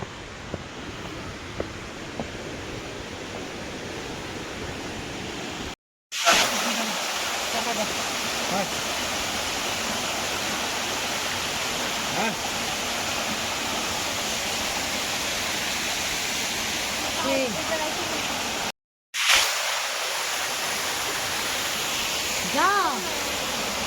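A hillside waterfall near a temple in the Bhutan hills roars as a continuous broad rush of falling water, loud and steady, with voices faintly over it at times.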